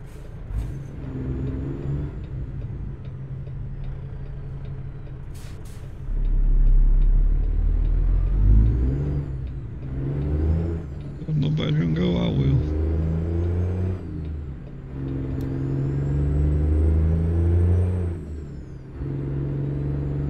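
Western Star semi-truck from American Truck Simulator, hauling iron pipes, its diesel engine rumbling low and steady with occasional revving swells, while someone talks over it.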